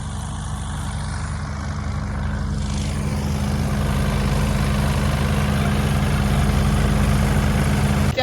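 A tractor engine idles close by with a loud, steady low rumble and hum for the whole stretch. No voices are heard.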